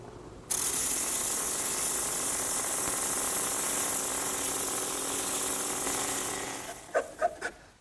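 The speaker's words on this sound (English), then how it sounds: "My drum sander attachment is the perfect tool to smooth out any of the roughness left by the bandsaw cuts." A drum sander attachment smooths the bandsaw-cut edges of wooden chair parts, a steady loud whir starting abruptly and running continuously before winding down into a few short scraping bursts at the end.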